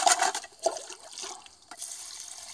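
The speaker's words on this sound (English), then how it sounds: "It's always good to put a little bit of water in there" Water poured into a Rotapan gold recovery pan holding creviced material, a splashing, gushing pour that swells and fades in a few surges over a couple of seconds, with no talk.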